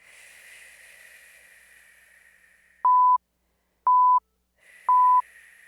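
Steady, airy breathing during a thoracic and pelvic mobility warm-up: a long hissing exhale, then three short, loud electronic beeps about a second apart, with the soft breath returning at the end.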